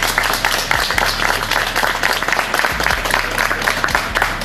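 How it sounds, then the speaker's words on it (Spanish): Steady applause from a crowd, dense clapping continuing throughout with a low hum underneath. "Un aplauso."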